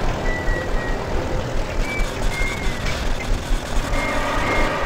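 Electronic alarm beeping in Bioshock Remastered, a steady repeating tone pattern over a continuous rumbling game ambience, with no talk.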